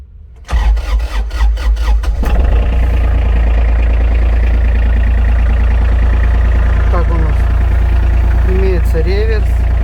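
An ISEKI SIAL243 mini tractor with a warm cab and 631 engine hours cranks briefly, catches with a sharp burst, then settles into a loud, steady, close-up diesel idle that runs on to the end.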